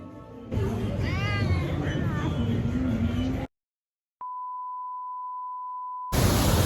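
A cat yowls over background noise in Kuala Lumpur, Malaysia, then a long steady electronic beep sounds after a moment of silence.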